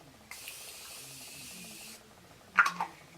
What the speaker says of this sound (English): Give myself one more spray here.